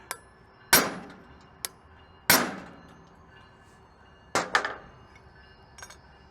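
Hammer blows on a rivet of freshly forged blacksmith tongs, reheated in the forge: four sharp metallic strikes with ringing decay, spaced irregularly, plus a couple of lighter taps, close and alone with no talk.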